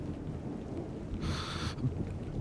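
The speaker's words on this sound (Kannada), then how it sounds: "ಮಳೆ ಜೋರಾಗ್ತಾ ಇದೆ, ಹೊರಡೋಣ ಬನ್ನಿ" Steady heavy rain hisses under a low, rolling rumble of thunder, with one brief, louder wash of rain noise midway.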